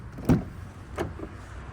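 A Volkswagen Golf 8 GTI facelift door opens with a dull latch clunk, followed about a second later by a softer second thunk, close and quiet against low background noise.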